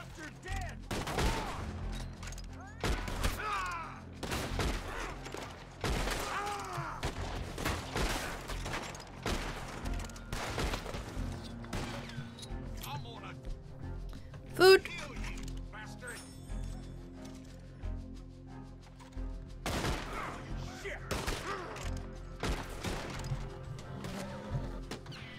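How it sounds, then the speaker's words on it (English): Gunshots in Red Dead Redemption 2 crack out in scattered single shots and short bursts, fairly close and loud, with one sharp standout shot midway and a voice talking between them. "Who's shooting me?"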